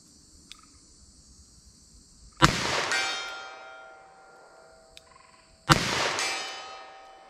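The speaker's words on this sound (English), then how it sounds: "I'm going to start up with the 38 special, see if I can hit at that distance." Two sharp shots from a .38 Special revolver fired outdoors at a target 75 yards away, a few seconds apart, each with a long fading echo over a bed of chirping crickets.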